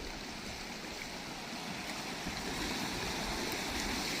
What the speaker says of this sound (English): it's like a bubbling when the water pulls off of the small stones.